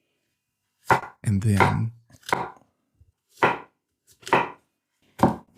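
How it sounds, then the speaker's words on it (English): A kitchen knife chops mushrooms on a cutting board in short separate bursts of brisk chopping, with a brief spoken phrase early on. "Mushrooms to taste. Here, just chop it very small as well."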